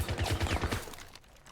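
Rapid gunfire in the video game Rainbow Six Siege, a quick burst of repeated shots with a pulsing low thump, fairly faint and fading out after about a second.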